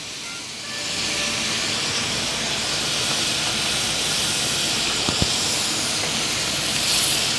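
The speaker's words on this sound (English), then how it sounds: "I'm going to fry them in batch" A batch of french fries bubbles in hot oil, a loud, dense, even hiss that holds steady throughout with no talking over it.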